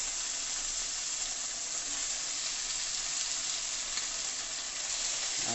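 Chicken breast stir-frying in a pan, a steady, dense sizzle with a broad hiss that holds evenly throughout, close and moderately loud with no voices.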